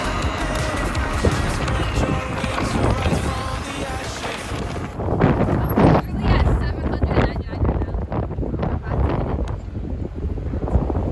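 Strong wind buffets the microphone beside a lake, a steady rumbling roar with gusts throughout.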